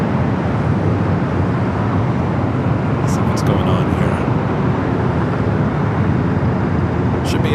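An airliner takes off at LAX airport, its jet engines making a loud, steady broadband roar that holds evenly throughout, with a few brief high clicks.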